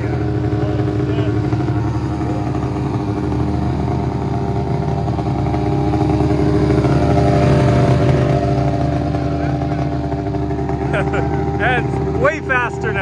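A loud race snowmobile engine drones and revs steadily up close for the whole stretch, with faint voices near the end.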